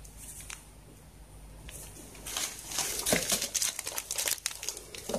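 Plastic packets of soap-making supplies are handled and crinkled, quiet rustles at first, then louder, busy crackling and scrunching close to the microphone.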